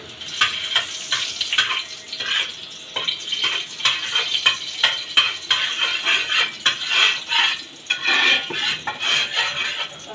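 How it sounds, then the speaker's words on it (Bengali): Food fries in a pan with butter and oil, a constant sizzle broken by repeated metallic scrapes and clinks of a utensil against the pan, close and clear. "আমি একটু বাটার দিয়ে ভাজতেছি, আপনারা সাদা তেল দিয়েও ভাজতে পারবেন।"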